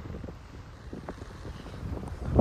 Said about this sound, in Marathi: वारा बी खूप सुटलेला आहे.